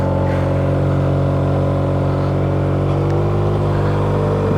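A keyless Yamaha TMax 560 scooter idling and pulling away, a loud steady engine drone that rises slightly in pitch near the end as it moves off.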